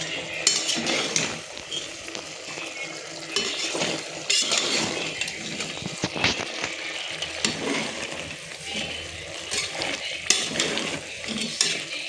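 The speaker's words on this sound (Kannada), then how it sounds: "ಚೆನ್ನಾಗಿ ಇದು ಮಿಕ್ಸ್ ಆಗೋವರೆಗೂ ಚೆನ್ನಾಗಿ ಕೈ ಬಿಡ್ದೇ ತಿರುಗಿಸ್ತಾನೆ ಇರಬೇಕು." A spoon scrapes and clatters against a pressure cooker while chicken biryani masala is stirred, with irregular metallic knocks and a soft sizzle beneath, close and steady throughout.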